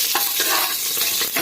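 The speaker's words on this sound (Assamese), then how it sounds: "এতিয়া মই তেজপাতকেইটা ইয়াত দি দিম।" Bay leaves fry in hot ghee with a bright, continuous sizzle, punctuated by several stirring scrapes close by.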